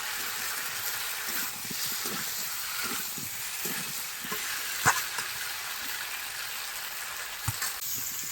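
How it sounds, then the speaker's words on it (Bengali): Ground spices sizzle and hiss steadily in a pan as they are stirred and dry-fried for a yam curry, with a soft continuous crackle and a couple of sharper clicks from the spatula. "দু মিনিট মতন এইভাবে আমি নাড়াচাড়া করবো"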